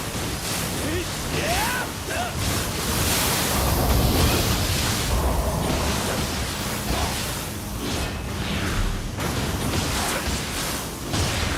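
Water waves in the video game Nioh 2 wash and surge as a continuous broadband rush, moderately loud, with faint background sounds and no clear talk over it.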